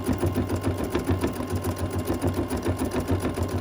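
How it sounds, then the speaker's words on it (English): An embroidery machine stitches out a needle organizer in the hoop, giving a steady close mechanical whirr with fast rhythmic needle pulsing throughout and no voices. "So I'll stitch these out and we'll be right back."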